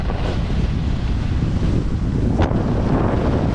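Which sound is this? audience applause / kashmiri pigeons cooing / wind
wind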